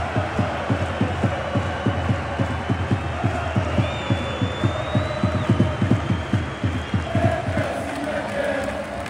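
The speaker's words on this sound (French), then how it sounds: "les joueurs vont arriver d'une seconde à l'autre pour remercier leurs supporters et recevoir les applaudissements" Football supporters fill a stadium after a Coupe de France semi-final between Dunkerque and PSG, a dense crowd roar carrying steady rhythmic claps and chanting as players approach to thank the fans, with a voice talking over it.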